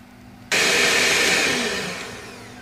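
An electric mixer beating mascarpone cream for tiramisu starts abruptly and runs as a loud, steady whir that eases slightly toward the end, with no voices.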